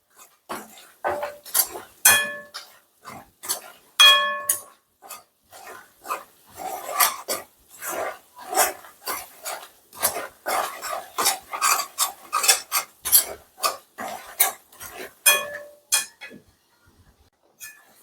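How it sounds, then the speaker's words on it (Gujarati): Gram flour roasting in oil in a pan while being stirred: repeated close scraping and clinking strokes of a spoon against the pan in an irregular rhythm, with short pauses between bursts. "હું ચણાના લોટને પણ આ રીતે તેલમાં શેકી લઈશ અને થોડો ગોલ્ડન બ્રાઉન કરીશું આપણે"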